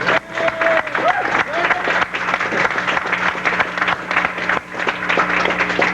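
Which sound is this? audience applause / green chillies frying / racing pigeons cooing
audience applause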